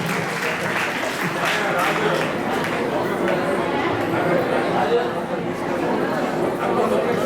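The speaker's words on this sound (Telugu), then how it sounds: "చప్పట్లు కొడదాం" An audience at a church Christmas celebration applauds, a steady dense wash of clapping mixed with crowd chatter throughout.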